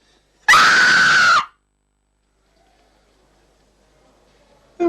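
A woman in a classic film scene lets out one loud, sharp scream lasting about a second, followed by near silence and faint sounds before another vocal burst at the end.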